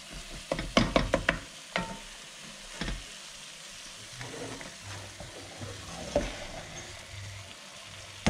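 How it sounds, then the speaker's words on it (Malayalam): Marinated turkey leg pieces drop into a hot pan with a cluster of sharp crackles and pops, then settle into a steady, soft sizzle with occasional stirring clatter. "ഇതിലേക്ക് നമ്മൾ നമ്മുടെ മാരിനേറ്റ് വെച്ചിരിക്കുന്ന തർക്കിക്കാൽ"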